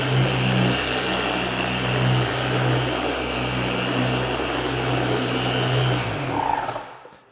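An orbital car polisher spreading polish at speed setting 3 runs with a steady, close motor whine and hum that holds level for several seconds, then winds down and cuts off at the end.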